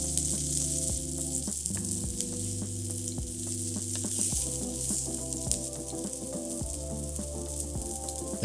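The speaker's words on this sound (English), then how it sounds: "as the bread side fries for about 2 minutes more" A smash burger taco fries bread side down on a hot griddle, giving a steady, close sizzle that runs the whole time beneath continuous background music.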